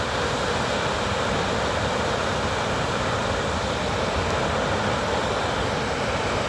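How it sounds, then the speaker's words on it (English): A high mountain waterfall roars in a dense, unbroken rush of water, loud and close, steady throughout with no voices over it. "This is a really pretty waterfall."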